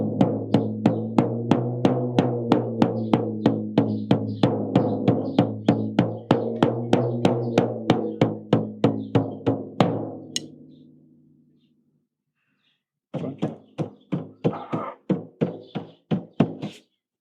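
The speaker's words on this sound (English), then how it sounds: "as she was making noise on the drum" An elephant beats a drum at Buttonwood Park Zoo, giving a run of rhythmic, evenly spaced resonant thumps for about ten seconds, then a brief silence before another quicker burst of strikes.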